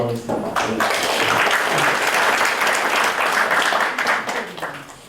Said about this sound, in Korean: 잠깐 환영하는 박수도 하겠습니다.